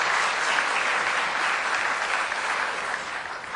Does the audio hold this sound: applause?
yes